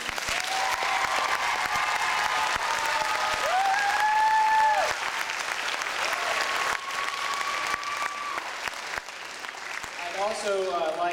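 Audience applause for students at a school event, a dense sustained clapping crowd filling the room, with voices talking and exclaiming over it, fading slightly near the end.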